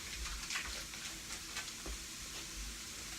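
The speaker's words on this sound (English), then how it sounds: "I'm going to add a little butter to it." Butter sizzles in a hot pan with salmon and cauliflower rice, a quiet steady crackling hiss with soft stirring scrapes.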